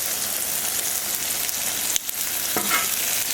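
Jimmy Dean breakfast sausage patties sizzle steadily on a Camp Chef Sidekick griddle outdoors, a close, even crackling hiss with a couple of brief clicks from handling midway.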